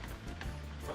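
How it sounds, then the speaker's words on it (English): Hot water from cooked pasta pours out through a drainer in a steady, hissing rush, a brief continuous splash close at hand with no talk over it. "drain off the water."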